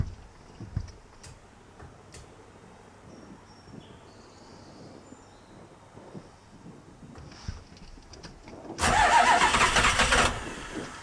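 An old Bullnose Ford F350 truck engine cranks after a quiet stretch of faint clicks, then catches with a loud burst that runs about two seconds before cutting off.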